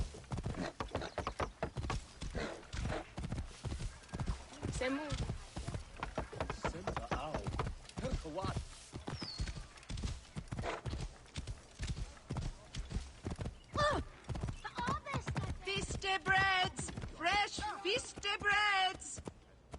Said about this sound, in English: Call the magic appearing steed.